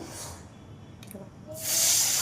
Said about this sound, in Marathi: पाणी आपल्या अंदाजाने टाकायचं.